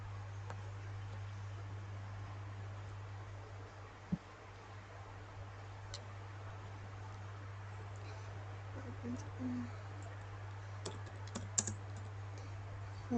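Computer keyboard keys tapped sporadically during network setup work, with an Enter press among soft, close clicks over a steady low electrical hum, quiet and without talk.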